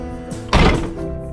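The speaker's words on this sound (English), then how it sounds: "That door would sound a lot better if the vent window wasn't rattling around in there." An old Lincoln car door swings shut with one solid thunk midway, followed by a short metallic rattle from a loose vent window inside the door.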